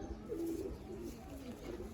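Giribaz pigeons cooing in a loft, a low soft coo rising and fading close by, faint against quiet room noise.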